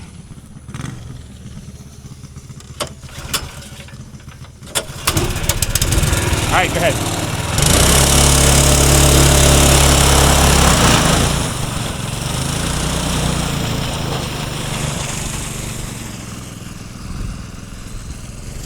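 A small race car engine starts up and revs loudly on a new track, then settles into a steady buzzing drone as it pulls away, with people talking before and over it.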